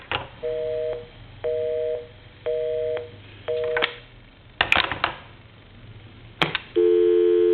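AT&T QCP-31 speakerphone telephone on a repair bench: short repeated two-tone beeps in a steady rhythm, a few clicks and clunks of the hook switch, then a continuous dial tone at the end, clear and close.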